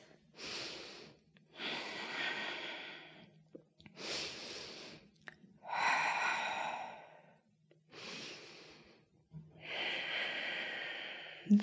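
Slow, deep breaths during a yoga stretch, six long airy inhales and exhales in a steady rhythm with quiet pauses between, close and soft, nobody talking.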